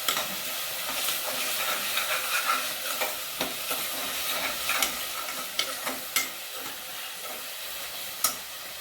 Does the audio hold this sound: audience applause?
no